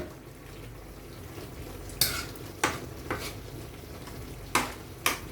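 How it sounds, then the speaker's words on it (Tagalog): A pot of milkfish and tofu at a rolling boil, a steady bubbling simmer with several sharp clinks of a lid or utensil against the pot. "kumukulo na."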